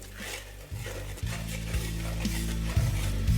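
A spoon stirs spice masala made with Kashmiri chilli powder and coriander powder in a pan, giving close, continuous scraping and sizzling with a few clanks of metal on the pan.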